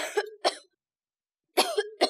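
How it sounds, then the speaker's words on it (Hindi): A veiled bride coughs at a wedding ceremony: two short coughs, a pause of silence, then two more, close and fairly soft. "अरे क्या हो गया कि एक तो घूंघट नहीं उठा रही, ऊपर से इतनी खांसी।"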